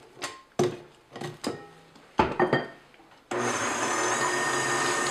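Several scraping knocks of a spatula against a mixing bowl and paddle come first. Then a stand mixer with a paddle attachment starts up, churning a batter with eggs in a loud, steady whir that continues to the end.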